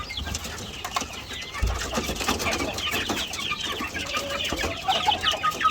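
Chickens, chicks and game fowl of mixed heritage breeds cluck and peep steadily on a farm, a dense, close chorus of overlapping calls running throughout.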